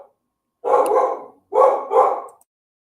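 Several dogs bark in three loud, close bursts, the first longer and the next two back to back, set off by landscapers working across the street.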